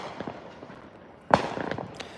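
Fireworks burst during a Fourth of July celebration, a few soft distant pops followed by one sharp, loud bang and a quick run of crackling reports trailing after it.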